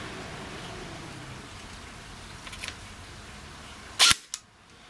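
A Bulldog ST Alpha airsoft gun fires one sharp, loud crack through a chronograph near the end, with a short echo after it, against faint background noise and no talk.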